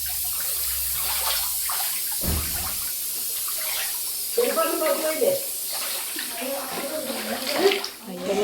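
Floodwater from a high tide rushes and gurgles in a continuous heavy flow, swelling louder partway through, with voices talking over it.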